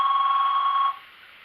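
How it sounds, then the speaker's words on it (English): A telephone rings in one sustained electronic trill lasting under a second, then falls quiet, heard alone at close range. "Here, I gotta answer a phone real quick."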